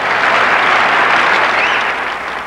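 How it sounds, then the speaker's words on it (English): Audience applauding at an O.J. Simpson speech, a loud, dense wash of clapping from a large crowd that holds steady and then begins to taper slightly. "There was applause then and lots of laughter from the audience"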